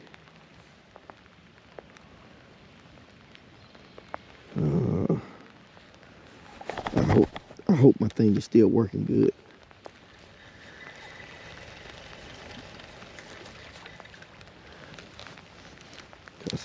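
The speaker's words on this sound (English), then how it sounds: "Cause I don't normally let it get rained on like this." Steady rain falls around an angler at a lake in cold weather, a soft continuous patter that stays low and even, broken midway by a few louder bursts of handling noise and someone speaking briefly.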